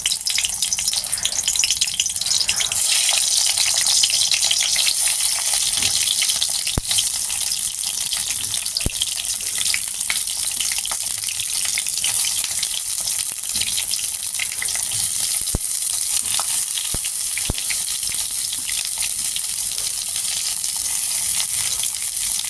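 Eggplant with sesame fries in hot oil, a loud, steady, bright hiss that holds evenly for the whole stretch, with scattered small pops and clicks.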